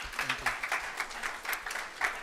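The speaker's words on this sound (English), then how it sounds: "Round of applause." Seminar audience applauding, a modest burst of scattered hand clapping from a small crowd, moderately loud and continuous.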